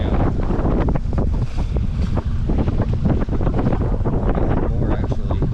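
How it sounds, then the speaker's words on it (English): Steady roaring wind of about 15 knots buffets a 26 ft sailboat sailing solo at sea toward Hawaii, loud constant rushing with wave wash underneath and no talk. "it's like about 15 knots of wind right now"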